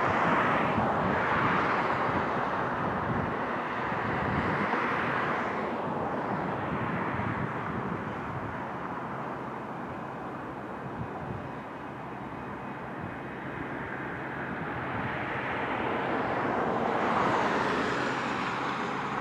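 Broad ambient roar at SLO County Regional Airport, with aircraft engine noise swelling and fading in the distance over a steady wash of background rumble.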